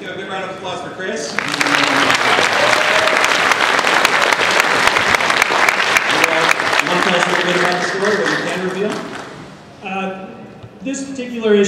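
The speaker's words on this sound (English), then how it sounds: "Give a big round of applause for Chris." A convention panel audience at WonderCon 2011 breaks into a long, loud round of applause for an arriving guest, with a voice speaking before it begins and again as it fades.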